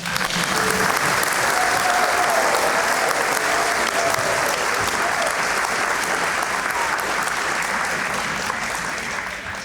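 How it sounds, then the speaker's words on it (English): A banquet audience applauds academic award recipients with sustained, dense clapping that stays loud for the whole stretch and eases slightly near the end, with a faint voice briefly audible underneath. "Let's give them all one more big round of applause."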